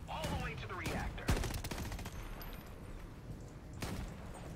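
Rapid gunfire and bursts in the online shooter Shatterline, fired at a summoned fusion ball being pushed toward a reactor, with sharp cracks and a heavy hit near the start over busy game noise.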